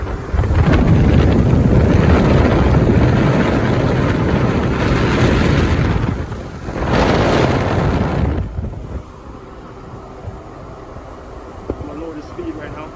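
Strong, steady roar of airflow from a commercial HVAC unit blowing hard, loud and broadband for about eight seconds before dropping to a quieter hum with faint clicks, with speech over it.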